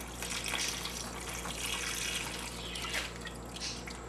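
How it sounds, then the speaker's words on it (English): Water pours from a tap into a pot of ribs and beans in a home kitchen, a steady, faint splashing and trickling stream that continues throughout without speech. "I'm going to put some water in there."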